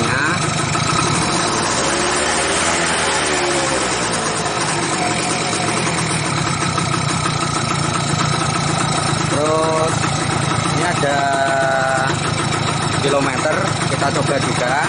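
A Yamaha F1ZR motorcycle engine runs steadily near the microphone for the whole stretch, its pitch rising in a few brief revs midway, with a voice talking over it at times.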